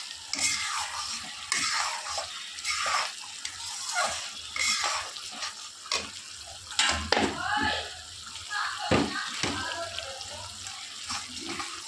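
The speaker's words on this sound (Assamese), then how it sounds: "এতিয়া মছলাখিনি অকণমান ভাজি লওঁ।" Spices fry in oil with a little water and salt in a pan for a chana dal and soybean dish, with an uneven sizzle and repeated scraping stirs that rise and fall throughout.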